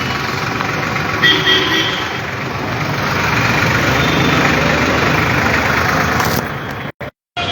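A farm tractor's engine runs steadily at a farmers' tractor rally through Gharaunda town, a loud continuous low rumble with broadband road and wind noise that cuts out abruptly near the end.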